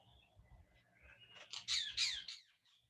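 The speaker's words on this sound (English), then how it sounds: "Stop and listen to the birds singing outside." Birds sing outside, a few bright chirps and a quick warbling phrase rising clearly in the middle, fairly faint over a low indoor hum.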